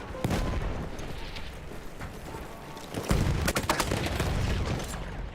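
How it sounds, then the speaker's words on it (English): Battlefield 1 gameplay with a dynamite explosion, a sustained roaring blast and rumbling debris followed by a second louder boom with crackling bursts, dense and loud throughout. "I could still detonate the dynamite, and I was already dead"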